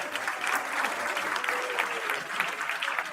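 A school audience applauds participants at an English fiesta of poem recitation and debate, with steady, close clapping from a crowd and a few voices faintly mixed in.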